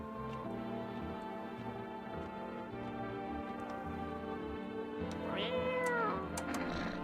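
A cat meows over a steady, droning background, with one longer, rising and falling meow standing out near the end.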